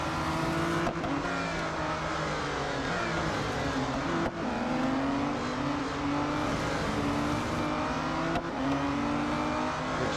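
An Aston Martin Vulcan AMR Pro screams around a track in the racing game Real Racing 3, its engine holding a loud, continuous high-revving whine with brief dips at gear changes and no voices.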